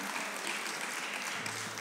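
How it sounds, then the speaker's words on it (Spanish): A church congregation claps steadily together, a dense wash of applause with no voices rising above it. "Denle fuerte aplauso a nuestro Señor."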